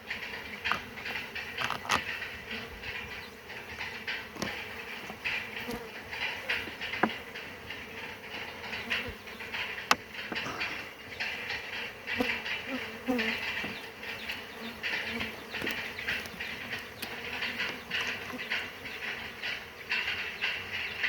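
Dense, steady buzzing of many honeybees fills the air around a hive being fed and reinforced, continuous and close, with occasional louder bees passing by.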